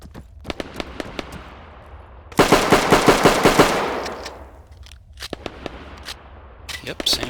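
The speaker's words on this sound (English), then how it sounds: "But alright, let's try a pistol." Pistol shots in the World War II ArmA mod IFA3WarMod, a rapid string of sharp, loud reports ringing out over a couple of seconds, with scattered single shots and clicks before and after.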